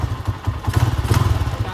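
An old Honda TMX 155 motorcycle engine runs close by with a steady, lumpy thumping idle rhythm, loud and alone without talk.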